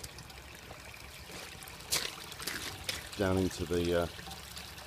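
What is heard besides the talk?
water leaking and running down into a drain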